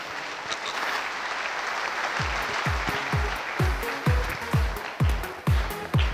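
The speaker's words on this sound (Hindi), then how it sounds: "हमारे सभी डायमंड लीडर्स के लिए और रेड क्लब के लिए जोर तालियां होनी चाहिए।" An audience at a Safeshop gathering applauds its diamond leaders with thick, continuous clapping. Partway through, deep rhythmic booming beats join in and pulse regularly beneath the applause.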